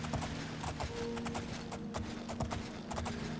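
Hooves of the horse Shadowmere clip-clop steadily in the video game Skyrim, a quick repeating rhythm of mid-loud hoofbeats over a constant ambient game bed, with no talking.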